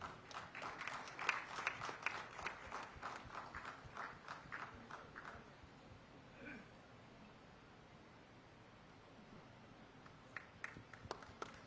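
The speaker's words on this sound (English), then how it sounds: "A huge round of applause, ladies and gentlemen" Scattered clapping from an audience at a Nagpur industrial festival gathering, dense for the first five seconds, then thinning out and returning in a few sparse claps near the end.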